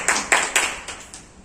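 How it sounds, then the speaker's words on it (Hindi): A few audience members clap at a school parenting meeting, sparse separate claps in a loose rhythm, about five distinct bursts that fade out, moderately near and not very loud. "माननीय श्री प्रबंधक महोदय का एक बार जोरदार ताली समझ।"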